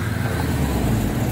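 Muscle car exhaust revving as it leaves a car show, a loud, close, rumbling engine roar that holds steady and full throughout the brief moment.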